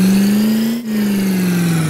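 County sheriff police car engine revving steadily, a loud sustained mid-pitched drone that rises slightly, dips briefly, then holds and sags back down.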